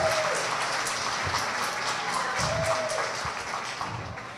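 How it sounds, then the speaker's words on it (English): Applause from a political forum audience on Kauai greets U.S. Senate candidates, a dense, steady wash of many hands clapping that holds strong throughout and tapers slightly at the end, with faint voices mixed in. "So how's about a round of applause?"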